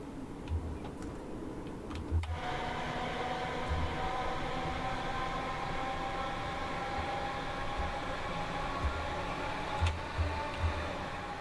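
A Class 313 electric train runs in Train Sim World 2, a steady even rolling hum with faint tones on top, broken by periodic soft rhythmic clicks of wheels over rail joints and a brief clunk early on, no talk.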